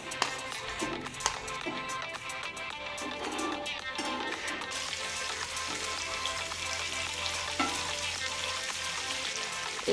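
Two onions frying in a pan of heated oil with a spoonful of butter, a steady, dense sizzle that stays loud and continuous throughout, with a few faint clinks from a utensil.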